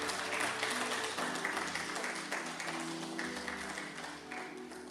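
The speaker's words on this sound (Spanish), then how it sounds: "Podemos aplaudirle al Señor" Church congregation applauding and praising together in a large gathering, a dense wash of clapping with musical tones underneath, loud and sustained throughout, no clear speech on top.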